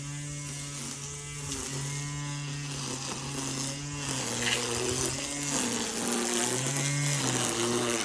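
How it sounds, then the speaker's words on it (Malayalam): A brush cutter clearing grass and bushes, its engine giving a steady droning buzz that shifts pitch as it bites into growth, continuous and moderately loud throughout. "കാട് വെട്ടുന്ന മെഷീൻ കൊണ്ട് അച്ഛൻ കാട് വെട്ടിയും കൊണ്ടിരിക്കുകയാണ്"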